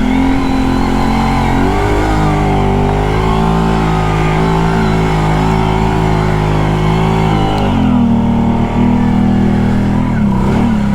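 Brute ATV engine revving hard as it pushes through water over a loose gravel bottom in 2-wheel drive, a loud, close, rising and falling growl that surges, dips briefly, then climbs again.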